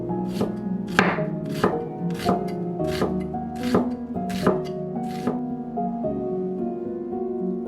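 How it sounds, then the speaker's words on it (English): A knife thinly slicing a shallot on a cutting board, about a dozen crisp, evenly spaced chops with a ringing tonal hum underneath, close and fairly loud, no talking. "Next, thinly slice the shallot"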